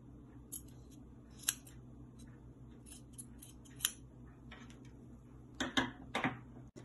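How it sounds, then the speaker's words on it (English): Scissors trim a half inch of fabric off the top of a T-shirt sleeve in a quiet room, with soft scattered snips and a brief cluster of sharper cuts near the end. "I'll just go ahead and trim off 1/2 inch from the top of the sleeve"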